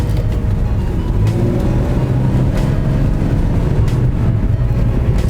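A BMW E46 320Ci coupe with Recaro seats speeds along a rough road, a loud, steady engine drone and road roar filling the cabin throughout.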